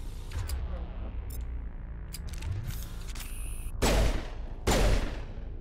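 Two loud, sharp pistol shots fire about a second apart near the end of a stretch of busy Mass Effect combat, with other clicks and effects scattered before them and no talk.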